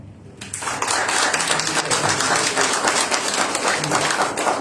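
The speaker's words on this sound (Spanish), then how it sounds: "Un aplauso." Audience applause at a political talk with a national leader of Política Obrera breaks out after a brief quiet moment, then continues as dense, sustained clapping close by.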